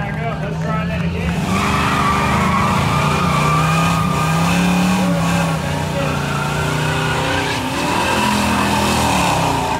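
Pontiac Trans Am drag car with a big intake firing up and revving hard, a loud sustained roar with tire squeal and crowd talk mixed in under the engine.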